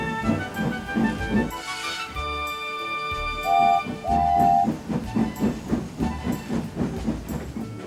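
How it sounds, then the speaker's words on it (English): A steam train shunting in a rail yard chuffs steadily with rhythmic puffs, hissing steam and two short whistle blasts midway, clanking rail sounds throughout. "There, he helped Duck shunt the yard."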